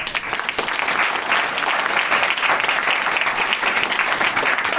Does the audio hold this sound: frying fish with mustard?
no